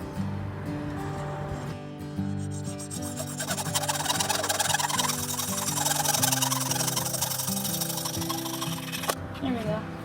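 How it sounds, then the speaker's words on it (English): A hacksaw cuts brass tubes in a workshop with continuous back-and-forth rasping strokes, loud and close, broken by a short pause and ending abruptly, with occasional talk underneath. "I'm gonna cut the brass tubes for the handle right here with the hacksaw."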